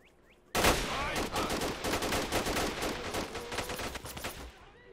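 Gunfire in the video game Call to Arms, set in an Afghan village under attack by a Russian force: sudden loud, dense bursts of automatic shots and overlapping rounds ring out for about four seconds, then die away.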